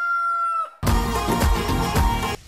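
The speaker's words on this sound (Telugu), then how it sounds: "మా పక్కింటి కోడిని అమ్మేస్తా, ఎందుకంటే పొద్దున్నే నిద్ర లేస్తుంది కాబట్టి" A rooster crows once, loud and close, a strained rising-then-falling call lasting over a second, preceded by a short thinner tonal fowl sound and a brief pause.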